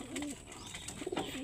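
Pigeons cooing close by, with a few soft, low, rolling coos and faint chirps in between.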